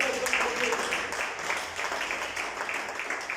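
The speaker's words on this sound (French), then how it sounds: "Applaudissons pour Jésus." Church congregation clapping for Jesus, a steady rhythmic wash of hands at moderate volume filling the whole stretch.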